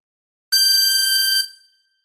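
A chromatic harmonica sustains one loud, bright blown note on hole 10 for nearly a second before tapering off, played alone and up close.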